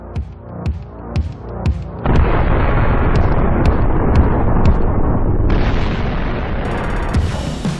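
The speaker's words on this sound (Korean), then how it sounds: "탄두의 끝이 목표물에 닿으면 로켓 내부의 폭약이 점화되고" An RPG rocket's shaped-charge warhead explodes on hitting an armored target: sharp booming impacts give way to a sustained, loud roaring blast with rumbling debris that fills the whole stretch, with no voices.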